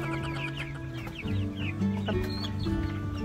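Chickens clucking close by in a farmyard, a busy overlapping chorus of short clucks and calls with a faint rooster-like tone mixed in, no talking.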